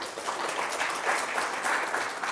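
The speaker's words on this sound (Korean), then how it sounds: "큰 박수 부탁드리겠습니다." An audience claps at a nuclear safety regulation workshop in Korea, a steady wash of applause from a roomful of people at fairly loud, even intensity throughout.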